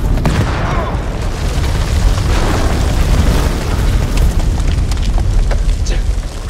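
A grenade blast in the horror war game House of Ashes, heard as a loud, sustained booming roar with debris crackle and rumble rolling on for several seconds, close and heavy, with no voices over it.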